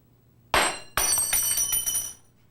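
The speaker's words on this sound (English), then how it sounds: "When a thermometer breaks," A glass laboratory thermometer breaks on a bench: a sharp crack followed by a second impact and a bright shower of tinkling, scattering glass fragments, close and loud with no talk.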